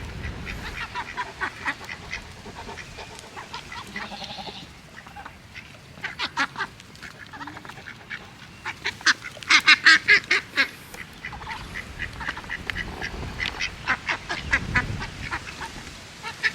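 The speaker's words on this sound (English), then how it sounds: "this little duck just came running up off her nest" A duck that has just run off her nest quacks repeatedly in loud, rapid bursts, bunched most thickly near the middle and recurring through the rest, with steady outdoor background noise and no talking.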